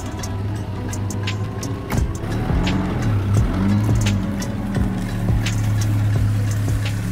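An old Soviet GAZ Volga M24 saloon idles steadily with a low, throbbing engine drone and a few irregular knocks and clicks on top, heard close and fairly loud with no talking.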